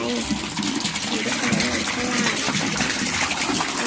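Water gushes steadily into a large catfish pond during a water change, a continuous broadband rush with faint voices in the background.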